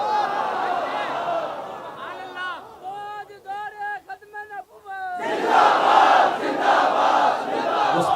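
A large crowd at a TLP conference rally in Sheikhupura roars out slogans. Loud collective shouting gives way to a single voice leading a chant in sharp rhythmic bursts, then the massed crowd surges back in.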